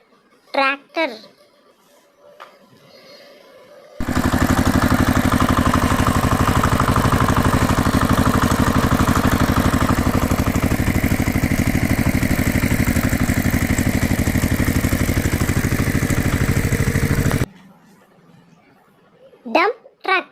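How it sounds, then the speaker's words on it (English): A tractor engine runs steadily and loud for about thirteen seconds, a continuous rumbling drone, with a voice talking briefly before and after it. "Tractor,"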